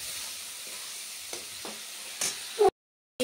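Masala sautéing in a pan gives a steady, close sizzle with a few soft stirring scrapes, a brief louder clatter, and then a sudden cut to silence near the end.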